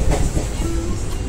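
A passenger train running on the rails near Cuttack, a brief loud steady rumble with clattering noise heard from inside a coach.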